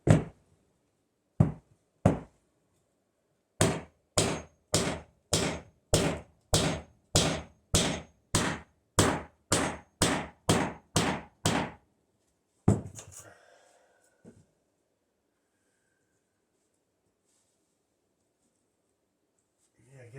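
Foam board is banged down into a model railroad HO scale layout table: a few separate thumps, then a steady run of about fifteen evenly spaced knocks, followed by quiet with faint movement.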